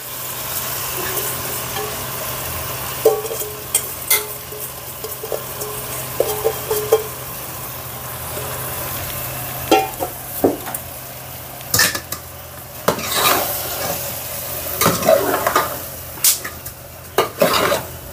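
Washed rice being stirred into cooked vegetables in a pot for instant khichdi on a gas stove, with steady scraping of a spoon against metal, soft sizzling and occasional sharp clinks, loud and close throughout.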